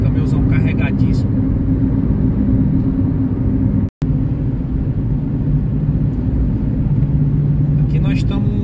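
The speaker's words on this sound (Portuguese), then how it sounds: "Esse caminhãozão carregadíssimo." A heavily loaded truck passes on a highway in Ceará, Brazil, a loud continuous rumbling road roar that runs throughout with a brief break, heard from inside a moving vehicle while someone talks over it.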